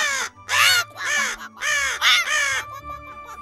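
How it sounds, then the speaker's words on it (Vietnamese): Crow cawing in a Vietnamese 3D animated folktale, five harsh rasping caws in quick succession, loud and close, alone over a soft background tone. "Lại là tiếng con quạ xấu xí"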